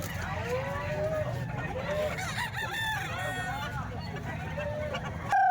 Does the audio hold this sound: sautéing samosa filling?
no